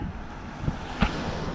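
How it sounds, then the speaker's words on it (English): Steady wind blowing across an open hilltop lookout at Little Bighorn, Crow Agency, Montana, a continuous broadband rush with low microphone buffeting and a couple of brief gust thumps. "Very windy out here today"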